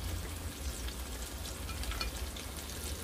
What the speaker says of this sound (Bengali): মাছগুলো আমার যেরকম ভাজা দরকার ছিল সেরকম ভাজা হয়ে গিয়েছে।